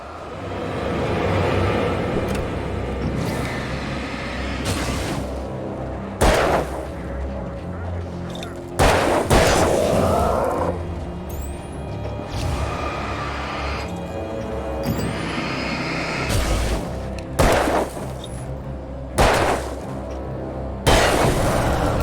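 Shotgun fire in the horror video game Alan Wake: a series of loud, sharp blasts spaced a few seconds apart, ringing out over a continuous game soundscape with some speech mixed in.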